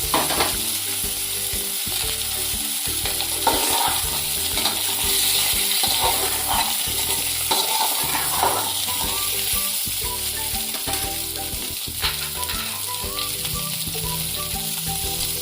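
Whole cardamom and bay leaf fry in hot oil, giving a dense, continuous sizzle up close with frequent stirring clatter throughout, steady and loud with no voices.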